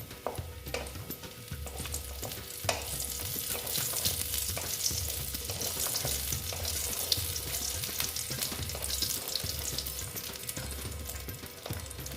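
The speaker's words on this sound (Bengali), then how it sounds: "আমি প্রথমে বড়িগুলো ভেজে নেব" Steady crackling sizzle of small lentil dumplings frying in hot oil, continuous and fairly quiet, with occasional light pops and no voices.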